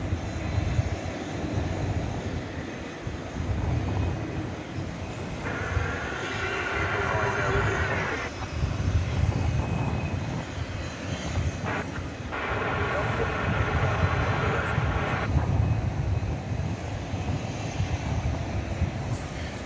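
A jet airliner taxis at night at Dallas Fort Worth airport, its engines a steady droning roar with rising whine bands, heard from a distance amid constant background noise.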